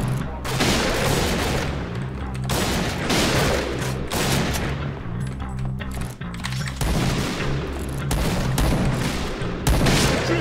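BORA-12 sniper rifle fire in the online shooter Point Blank, loud, sharp shots and booming reports repeating steadily over a constant, busy battle din.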